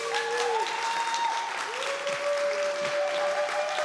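A conference audience at a React Native development event keeps clapping in a steady, fairly loud stream of applause, with faint vocal tones rising above it now and then.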